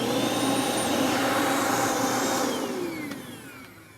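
A vacuum cleaner, with a riser visor and no Eureka attachment fitted, runs steadily and loudly while cleaning a very dirty house, its whine holding constant before easing down toward the end.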